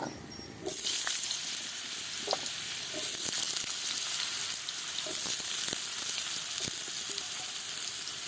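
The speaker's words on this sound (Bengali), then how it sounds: "আলু ভেজে নেব।" Potatoes fry in hot oil with a loud, steady hiss that starts abruptly, with occasional sharp crackles and pops breaking through, close up.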